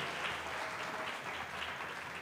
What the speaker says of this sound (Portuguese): aplausos pela história de amor